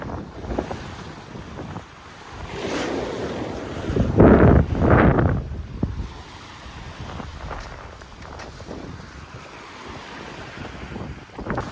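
A lone sailboat running under spinnaker on the open Pacific, with steady wind buffeting the microphone and waves washing along the hull, swelling into a louder surge of water partway through.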